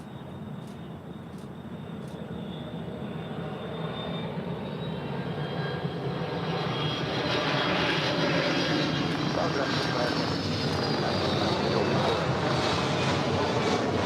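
A Southwest airliner lands on runway 24 right at LAX, a steady, loud jet roar that swells gradually and holds throughout, with a faint voice audible beneath the engine noise.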